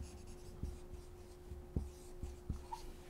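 Notes are written on a board during a hadith studies lesson. Faint, soft taps and scratchy strokes recur at an uneven pace against a quiet background, with no talking.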